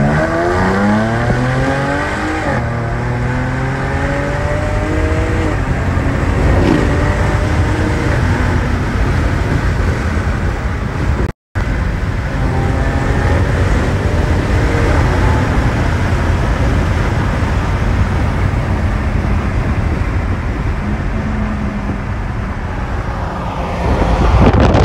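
A Jaguar F-Type Coupe S with a supercharged 3.0-litre 380 hp V6 accelerating hard along a seaside road, its loud engine note rising through repeated gear pulls, with a steady roar and wind noise throughout and no talking.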